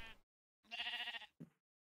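A sheep in the video game Minecraft bleats in short synthetic bursts: a brief cry, a longer wavering bleat, then a short clipped one, all quiet and with no talking.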